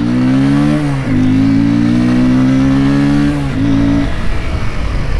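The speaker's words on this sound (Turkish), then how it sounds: "Şöyle gidip gaz yaptık." An RKS RN 180 motorcycle accelerating at full throttle, a loud, close engine note rising steadily with brief dips at each gear change and no talk.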